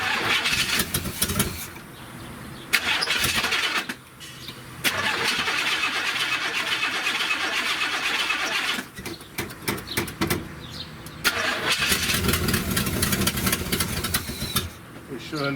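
A 1970 Buick Wildcat with a 455 V8 cranks and catches in loud, close bursts, then runs with a rough, pulsing idle that surges and dips, with brief drops in between and people talking over it.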